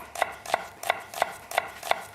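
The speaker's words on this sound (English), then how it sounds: "So I'll peel the onion, take the top off, we'll half it, finely chop it." A knife finely chopping an onion on a board in a home kitchen, six crisp, evenly spaced chops close up, with no talking.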